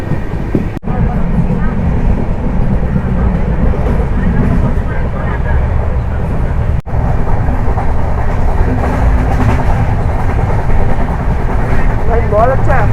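The Kerala Sampark Kranti Express runs toward Goa with a loud, steady rumble and rattle of carriages heard from inside, while people talk over the continuous noise.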